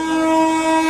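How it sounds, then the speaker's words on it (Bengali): Maa Tara Express train sounding its horn as it passes a halted local train, one loud, sustained, steady blast. "মা তারা এক্সপ্রেস ক্রস করছে।"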